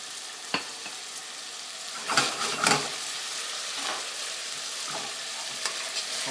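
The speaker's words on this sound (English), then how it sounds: "So we'll give this a stir here." Ground meat and onions for shepherd's pie frying in a pan, a steady sizzle broken by a few scraping stirs of a spatula that briefly rise above the crackle.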